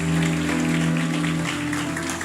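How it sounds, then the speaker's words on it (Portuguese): Church congregation applause rises under sustained organ or keyboard chords, the clapping fairly loud and even before easing slightly near the end. "Vamos aplaudir a Jesus?"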